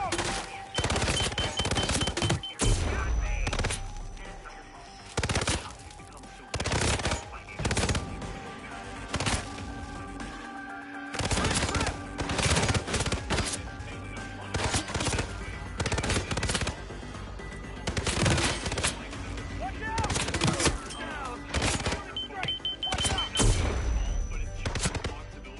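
Sustained bursts of automatic gunfire in the video game Hitman, dense rapid volleys with brief gaps, loud and close throughout, with explosions and shouted combat voices mixed underneath.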